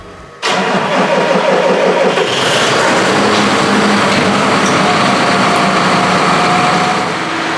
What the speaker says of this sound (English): so it's a cold start